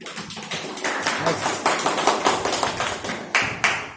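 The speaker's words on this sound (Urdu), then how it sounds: "تالیاں بجا دیں" A classroom of students practising lecturettes claps for a classmate, with sharp, uneven claps that come in quick repeated waves for several seconds, fairly close and loud.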